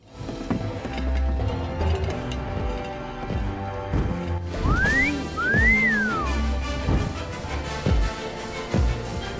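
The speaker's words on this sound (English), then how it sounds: "And then the Thinker's whistling adds even more noise to the fray." The Thinker whistles a couple of rising and sliding notes in the video game Rock of Ages, layered over dense, loud game music and thumping crashes.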